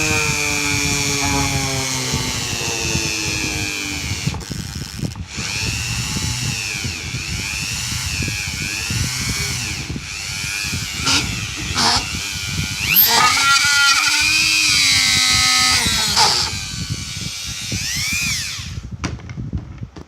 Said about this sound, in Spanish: vamos a hacer ahora la perforación con la Dremel